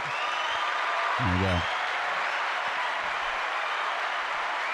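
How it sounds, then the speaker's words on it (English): Studio audience applause on a comedic morning show, a soft continuous hiss of clapping that runs beneath a man's brief spoken line near the start and continues evenly to the end. "you need the applause"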